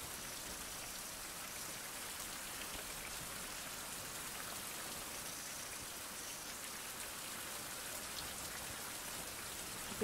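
Steady, dense rain pattering continuously with an even hiss throughout in a Caribbean island survival video game, no other sounds standing out.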